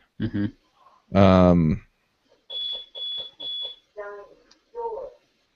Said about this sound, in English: The house that we are in has a burglar alarm.